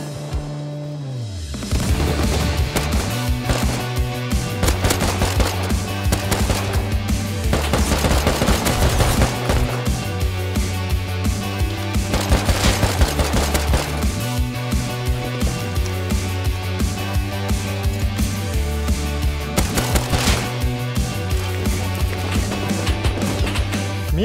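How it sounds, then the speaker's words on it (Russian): Rapid bursts of AK rifle fire in the game Rust crack repeatedly and loudly over a pulsing electronic music track, with no talking. "вдруг слышу еще одни выстрелы из калаша"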